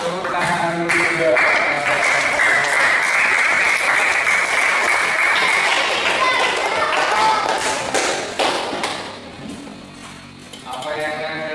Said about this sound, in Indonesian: Tepuk tangan dulu juga.